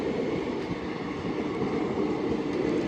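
A train rolls along the rails, a steady, loud rumble with a low clatter that continues throughout, as heard from on board or close to a small local train in Kerala.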